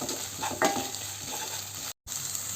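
Salted okra frying in a pan, a quiet continuous sizzle with faint stirring scrapes and one brief clink, briefly cutting out near the end, no talking.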